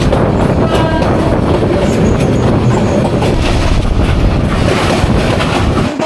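Bijoy Express rolling along an old rail line between Bhairab and Mymensingh: a loud, constant rumble with rattling clatter of the wagons and heavy wind buffeting throughout.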